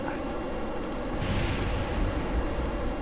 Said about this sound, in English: Try and shake the cannon fire.